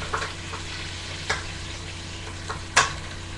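Meat braising in a pan as it is turned over, with a soft steady sizzle and a few brief clicks and scrapes of a utensil against the pan.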